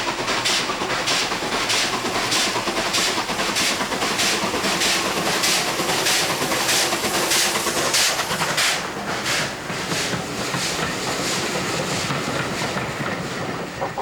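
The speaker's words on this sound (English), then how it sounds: "This is easy work for a mainline loco like 34101, which has plenty of power to spare," Mainline steam locomotive 34101 hauls a train up gradients with a steady, loud rumble. A regular rhythmic beat runs throughout with continuous rail noise, and no talk is heard.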